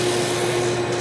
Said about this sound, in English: Silver is now refining with 120 grit sandpaper